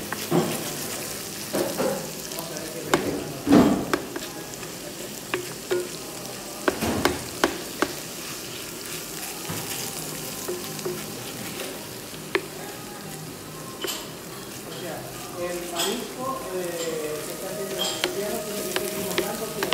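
Paella sofrito with wine sizzling and frying in a pan in Barcelona, a steady crackling hiss throughout with occasional scraping stir strokes, close and loud, no talking.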